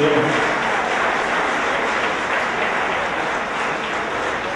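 A large audience at the closing and awards ceremony of a national prototype contest applauds steadily, a dense, even roar of clapping that holds at the same level from start to finish.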